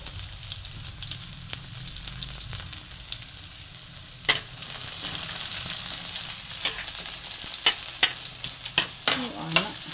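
Onions frying in a pan over a kerosene stove, a steady sizzling crackle running throughout with occasional sharper scrapes and clinks of stirring, fairly close and alone with no talk.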